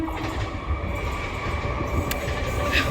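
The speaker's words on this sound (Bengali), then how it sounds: "তো তোমাদেরকে দেখাই, ট্রেন যাচ্ছে" A train passes by outdoors on a hot evening, giving a continuous rumbling roar with faint rail rattle and a brief high squeal near the end, steady and fairly close.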